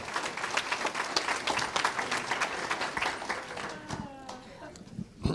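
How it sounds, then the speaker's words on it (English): Audience at a hospital informational forum applauding the moderator, sharp fairly close claps that thin out toward the end, with voices talking over the tail. "How about a round of applause for our moderator tonight?"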